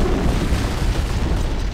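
Antimatter charge detonating aboard the starship Pillar of Autumn in Halo on PC, a loud, sustained low rumbling boom that fills the whole moment with dense, steady roaring energy and no speech over it.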